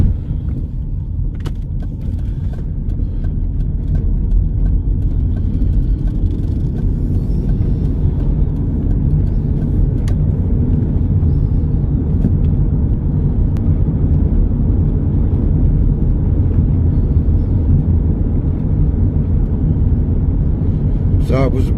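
A Nissan X-Trail drives along a suburban road near Canberra, its engine and tyre noise a steady, loud broadband rumble heard from inside the cabin, continuous throughout.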